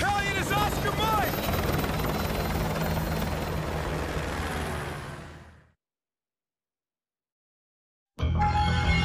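Helicopter rotor in Call of Duty Modern Warfare 2 Remastered, a loud steady chopping whir with a dense engine roar that fades out, then silence, then the roar cuts back in abruptly.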